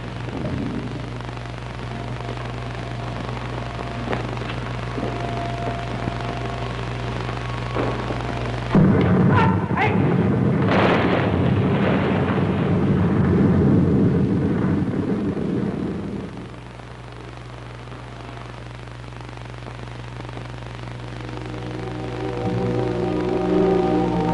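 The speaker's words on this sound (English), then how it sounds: "Beautiful explosion." An explosion sound effect in a radio drama lands as a sudden loud blast, then a sustained roaring rumble that fades to a steady background hum, with no one talking.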